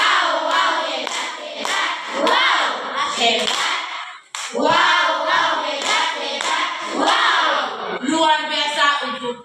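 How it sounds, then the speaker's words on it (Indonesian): A primary school class claps and chants the rhythmic "tepuk hebat" praise cheer for a group, with loud children's voices shouting in unison over bursts of clapping and a brief pause midway. "mari kita beri tepuk hebat untuk kelompok 1"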